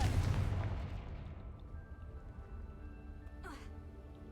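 A fire-spell explosion in a video game booms loudly at the start and then fades into a long rumbling decay, followed by a faint whoosh near the end.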